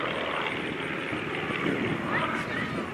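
A warbird aerobatic plane at the Warbirds Over Monroe airshow roars past low along the runway centerline, a steady, loud broadband engine and air rush that swells slightly midway and holds for the full three seconds.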